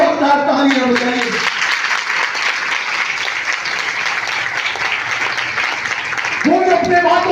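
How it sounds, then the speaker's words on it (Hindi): A church convention congregation applauds loudly for Christ in dense, sustained clapping that fills the hall, while a preacher's amplified voice is heard just before it swells and again as it continues near the end. "मसीह के लिए जोरदार तालियां बजाइए।"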